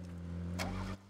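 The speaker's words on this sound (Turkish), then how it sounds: "araba burada. Tamam sür arabayı hadi." Car engine in the video game PUBG, a steady low hum with a brief louder rev burst near the middle before cutting off, heard alone at moderate level.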